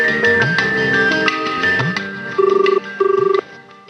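A telephone rings indoors in repeated trilling bursts, fairly loud and clear, while music plays faintly beneath.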